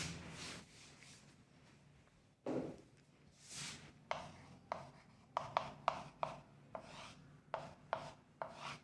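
Chalk or marker strokes writing out a quadratic equation on a board, a run of short scratchy taps and swipes that quicken into a steady rhythm, close and fairly quiet with no talking.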